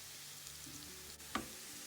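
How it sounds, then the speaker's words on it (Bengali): Garlic frying in oil for a Naga chili pickle, a faint, steady sizzle with a soft crackle and a brief stir sound partway through, no voices. "একটু ব্রাউন করে ভেজে নিব রসুনটাকে"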